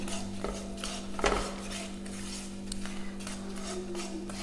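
Gram flour (besan) is roasted in a pan on low heat with a spoon scraping and stirring against the metal, giving soft intermittent scrapes and one louder clink over a steady low hum.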